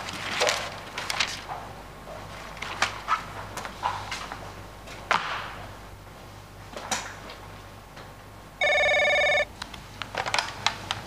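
A telephone bell gives one short, loud, steady ring burst near the end, set against a quiet indoor backdrop of scattered clicks and knocks.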